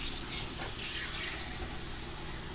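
Water pours steadily into a soup pot from jars for Italian wedding soup, a continuous wash of splashing liquid with no talk.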